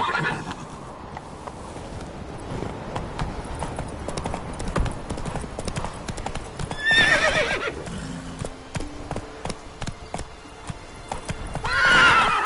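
Roach the horse in The Witcher 3 trotting with steady, rapid clip-clop hoofbeats, giving two loud neighs along the way, close and continuous with no talking.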